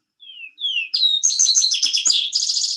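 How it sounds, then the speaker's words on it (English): A vesper sparrow sings two long clear whistled notes, then a run of musical slurs and buzzy trills, close and bright against a quiet background. "Vesper sparrow"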